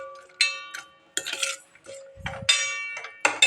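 A spoon clinks and scrapes against a bowl while curd is stirred together with other ingredients, giving a string of sharp, close metallic taps and ringing knocks with short pauses between them.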